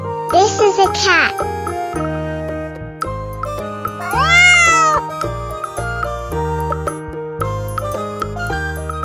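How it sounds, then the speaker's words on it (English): A domestic cat meows twice, one short call early and a longer rising-and-falling meow midway, over a bouncy children's tune with jingling tones and a voice talking. "Cat. This is a cat."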